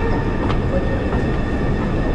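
Trains rumble steadily through a Berlin station, a constant loud roar of wheels and carriages with a faint squeal riding on top throughout.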